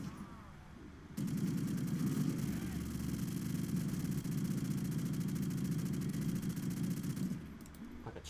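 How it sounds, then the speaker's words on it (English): A chain gun fires in a video game, a continuous rapid stream of shots that starts abruptly after a second of quieter sound, holds steady and dense for about six seconds, then stops. "Like a chain gun now."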